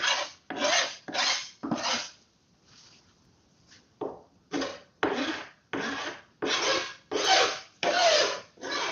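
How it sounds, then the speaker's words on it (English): A hand file rasps across wood, cutting off dried glue, in steady back-and-forth strokes, about a dozen scrapes with a brief pause partway through, close and clear. "You kind of hear the file working there."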